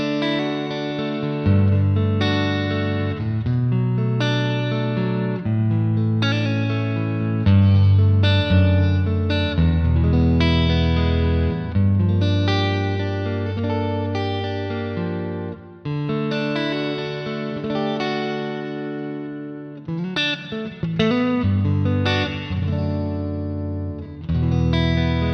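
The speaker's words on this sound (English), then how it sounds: "So this is how it sounds like, the clean tone." Electric guitar through an amp modeler plays chords and melodic phrases in a clean tone with chorus and wash reverb, loud and continuous, with no voices.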